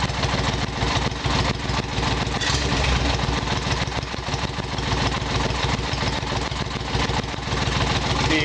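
A two-cylinder carbureted engine with its cylinders out of sync runs loudly up close, its uneven, rough throttle speeding up and holding with a constant rumbling drone.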